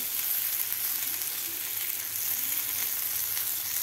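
Stuffed brinjals gently sautéed in oil for village-style ukad vangi, a bright, continuous close sizzle with soft crackle holding evenly from start to finish.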